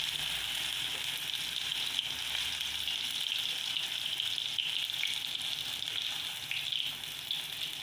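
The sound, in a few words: Nutrela soya chunks frying in refined oil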